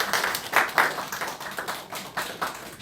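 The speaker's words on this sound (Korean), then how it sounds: "우리 박수 한번 쳐드리겠습니다." A church congregation claps in welcome, a loose scattered applause at moderate distance with uneven bursts rising and falling, fairly light overall and with no talk over it.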